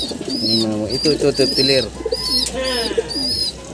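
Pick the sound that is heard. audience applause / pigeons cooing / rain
pigeons cooing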